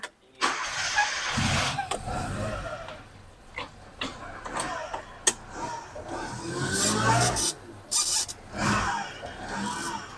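A Suzuki Katana with raised suspension and larger tyres runs its engine while reversing, a steady close rumble with clicks and knocks throughout.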